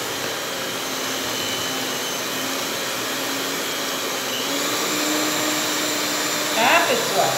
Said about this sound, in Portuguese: Tô com medo da minha batedeira queimar, porque ela é muito fraca. Tem que bater muito tempo mesmo